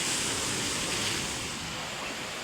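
Rough sea waves churned up by Typhoon Uwan roar as a steady, loud wash of surf, continuous and unbroken with no voices over it.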